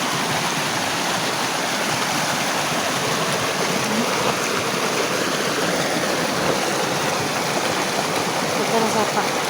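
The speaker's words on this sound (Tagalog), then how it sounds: "Ito na Sapa." A forest stream rushes steadily nearby, a dense continuous wash of flowing water with no breaks.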